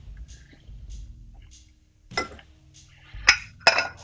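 Ceramic plates clink and clatter close by, a few light taps followed by two sharper knocks as dishes are set down, with no talking.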